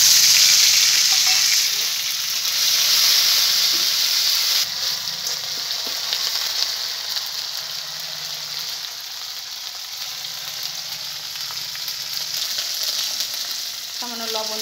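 Panch phoron and a ground ginger and green chili paste sizzle steadily in hot oil for khichuri made with moong and masoor dal, a loud continuous frying hiss with occasional stirring and no talk.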